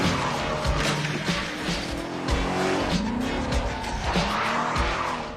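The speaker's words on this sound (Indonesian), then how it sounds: "Frank pun mengambil salah satu mobil milik mereka dan langsung pergi meninggalkan markas mafia" A car in a gangster film peels out from a mafia hideout, tires squealing loudly under a steady engine roar that holds for several seconds before easing off.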